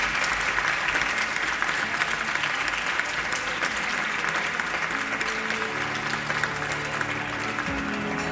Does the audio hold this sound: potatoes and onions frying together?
no